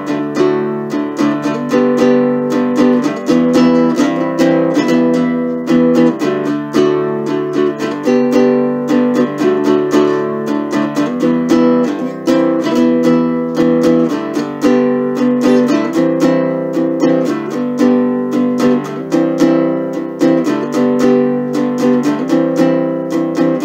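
Baritone ukulele tuned in octave mandolin tuning, strummed chords ringing with a deep, resonant tone in a steady, continuous rhythm, loud and close with no voices.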